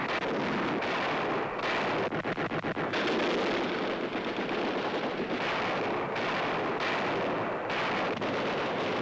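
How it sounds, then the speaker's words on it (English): Allied guns fire on a German tank near a cathedral during the 1945 battle for Manila, heard as a dense, continuous roar of distant heavy gunfire and rumbling blasts on an old, noisy newsreel soundtrack. "In the cathedral area, Allied guns open up on a German tank."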